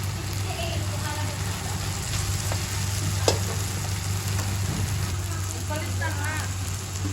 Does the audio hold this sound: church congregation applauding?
no